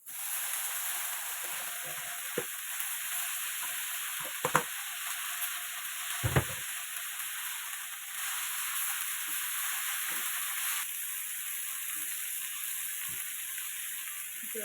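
Drumstick (moringa) leaves sizzling in hot tempering oil, a steady broad hiss of frying throughout with a few soft stirring knocks and clicks, fairly close and even in level.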